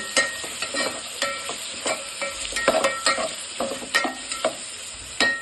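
Two tomatoes frying briefly in a pan for coconut milk rice, with a steady sizzle under repeated clinking, scraping stirs at an uneven rhythm.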